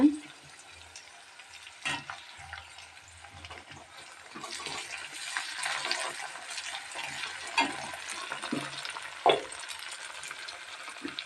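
Tomatoes and onions with dried red chillies and rock salt frying in a pan, giving a steady low sizzle with occasional stirring clatter and a few sharper spikes, close and fairly quiet, with no voices.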